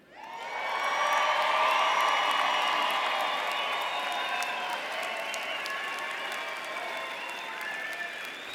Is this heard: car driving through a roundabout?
no